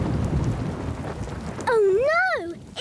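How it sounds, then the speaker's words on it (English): Cartoon thunderstorm from Ben and Holly's Little Kingdom: a steady rumble of thunder with rain hiss, then a high, swooping, voice-like cry over the storm near the end. "Oh no! It's a thunderstorm!"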